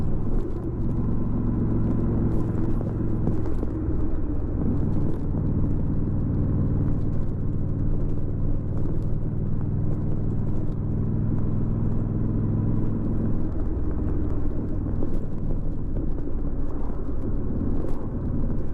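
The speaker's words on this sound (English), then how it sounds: "A curve is coming up, so I downshift to 4th." Vehicle engine rumbling steadily and loudly close by while being ridden on a road and downshifted to fourth gear before a curve, a continuous low drone with no clear gear-change break.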